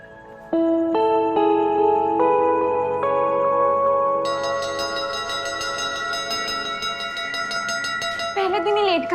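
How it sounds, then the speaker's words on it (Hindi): Temple bell struck again and again, each ringing tone layering over the last into a loud, sustained metallic clang, with a brief voice near the end. "10 मिनट से घंटी कौन बजा रहा था मंदिर में?"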